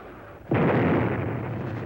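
Bombs exploding during the US bombing campaign against North Vietnam: after a quiet half second, one sudden loud blast opens into a sustained, rumbling roar of continuous detonations that stays heavy to the end.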